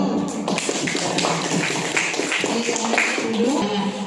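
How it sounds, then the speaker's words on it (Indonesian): Seventh-grade students in an Indonesian Islamic history class clap together, a dense, steady patter of many hands lasting several seconds, with a few voices mixed in. "kasih tepuk tangan dulu"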